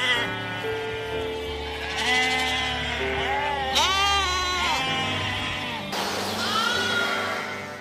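Several sheep bleat in overlapping, wavering cries as a shepherd brings the flock home in the late afternoon, the calls loud and close, one after another with no pause across the whole stretch.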